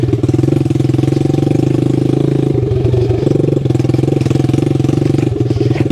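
A 1969 Honda CD90Z small motorcycle rides off-road through a Tasmanian forestry area. Its engine gives a steady, close, loud buzzing drone with a rapid pulse, and the pitch shifts slightly partway through. No one speaks.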